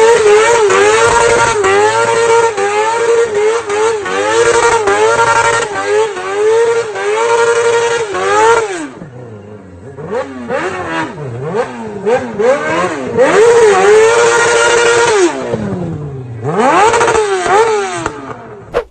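A golf cart with a swapped-in engine revs hard and accelerates nearby, its loud engine note climbing and falling in repeated sweeps, then dropping off briefly before surging again.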